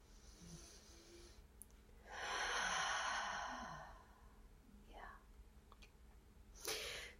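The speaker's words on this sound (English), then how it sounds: "just be aware with me as we interact by taking a nice deep breath again" A slow, deep breath drawn in and let out close by, a soft airy rush swelling for about two seconds and fading, with faint breathy sounds before and after.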